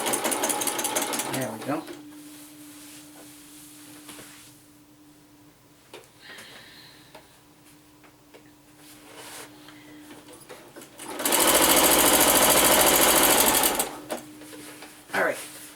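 Domestic sewing machine stitching slowly through a bulky quilted sewing machine cover, a steady mechanical whir with a long loud fast burst near the end, with a voice briefly talking over it.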